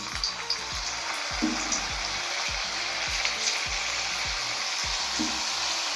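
Potatoes frying in hot oil: a steady, close sizzle and crackle with soft repeated bumps and stirring sounds, and no talking.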